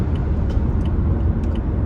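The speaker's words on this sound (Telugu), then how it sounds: "ఇక్కడ లారీలు పోతా ఉన్నాయి" Lorries pass along a highway in a steady, loud, low rumble of engines and tyres with no pauses, heard close by without talk.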